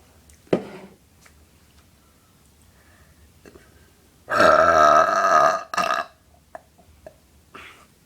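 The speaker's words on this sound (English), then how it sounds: "I just wanted to record myself burping" A woman lets out one loud, deep burp lasting over a second, close to the microphone, set among quiet breathing and small handling noises.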